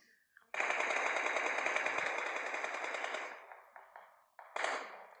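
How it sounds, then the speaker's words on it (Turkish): Video game gunfire: a loud sustained burst of rapid machine-gun shots lasting about three seconds, then scattered quieter shots and a final short burst, close and harsh. "Atış sesleri var ama"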